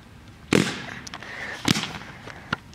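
Paintball gun shots hit cans outdoors, several sharp loud pops spaced about a second apart, with a fainter crack between them and no talking.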